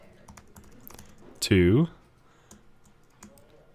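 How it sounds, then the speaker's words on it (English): Faint, scattered clicks of typing on a computer keyboard run through the quiet background, broken by one short spoken word in the middle. "Having a hard time typing today."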